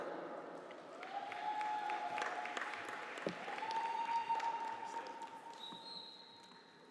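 Steady applause from a crowd at a university conferring ceremony, sustained throughout at moderate loudness, with a brief sharper clap or knock partway through.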